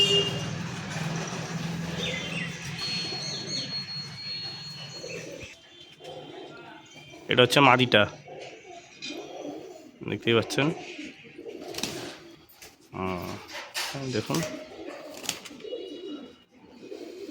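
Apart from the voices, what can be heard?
Dasu line pigeons cooing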